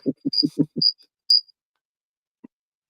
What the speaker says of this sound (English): Was that crickets?